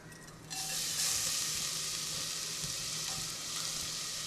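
Ground paste sizzles steadily in hot ghee on a low flame while being stirred, a dense continuous frying hiss that swells in after a quiet half-second and holds close and loud to the end, with no talking.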